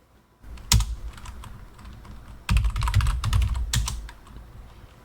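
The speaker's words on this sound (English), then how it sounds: "And we're going to type the following" Keys clack on a Commodore 64 keyboard as a program is typed, near and crisp, in two quick runs of presses separated by a lull, with a louder cluster of strokes in the middle.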